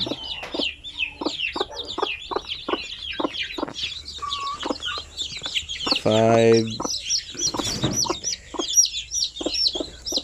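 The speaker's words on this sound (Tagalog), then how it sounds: "So ito na yung mga sisiw, bagong sisiw ng ating sampin" Newly hatched zampen native chicken chicks cheep in a continuous chorus of high, rapid peeps up close, with a brief cluck from a hen partway through and someone talking faintly underneath.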